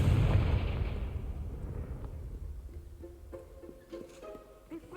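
A Confringo fire-blast spell in Hogwarts Legacy on PS5 goes off as a heavy, rumbling explosion that starts loud and decays over a few seconds into a quieter scene with faint clicks and tones.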